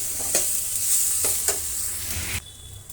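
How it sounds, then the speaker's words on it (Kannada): Garlic and onion frying in a pan for an egg masala omelette, a steady close sizzle with a few sharp stirring scrapes, the frying dropping quieter near the end. "ಈರುಳ್ಳಿ ಜೊತೆ ಬೆಳ್ಳುಳ್ಳಿ ಕೂಡ ಫ್ರೈ ಆಗಲಿ"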